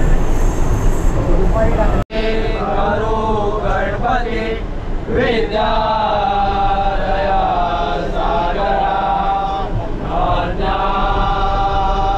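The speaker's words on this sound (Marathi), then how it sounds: "ट्रेनमध्ये, मलाड लोकल आहे." A crowded Mumbai local train runs from Churchgate to Malad in the evening, its steady rumble and rattle filling the carriage. Voices sing and talk loudly over the noise. There is a brief sharp break near the start.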